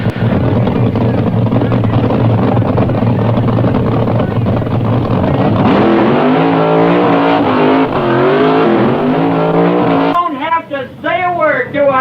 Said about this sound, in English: Folks, that's called a bleach burnout